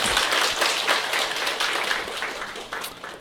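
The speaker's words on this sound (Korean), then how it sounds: "우리 장혜란 본부장님께 감사의 박수 부탁드리겠습니다" A room of attendees at a company gathering claps in thanks for a presenter, making a fairly steady patter of applause that tapers off near the end, with a sharp knock at the close.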